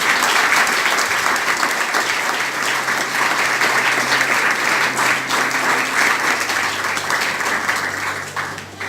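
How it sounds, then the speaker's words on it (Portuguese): A church congregation applauds during a sermon, a dense, steady wash of many hands clapping together that holds loud and unbroken throughout, with no talk over it. "Então vamos aplaudir Jesus para quebrar o gelo."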